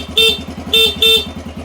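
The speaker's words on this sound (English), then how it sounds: "Got a horn." Horn of a 1993 Honda XR250L motorcycle, three short loud beeps over the steady idle of the running engine.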